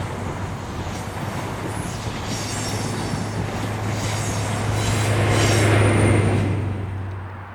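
ScotRail HST power car 43152 departs a station with semaphore signals, its diesel engine droning with a steady low hum that swells and grows louder as the train pulls away, wheels and rail noise underneath.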